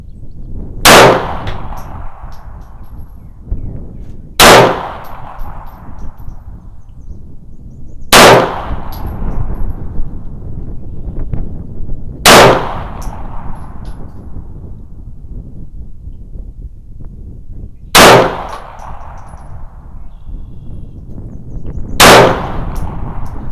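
Six sharp shots from a Walther PPK-S .380 pistol crack out one at a time, spaced several seconds apart, each loud and close with a short ringing decay.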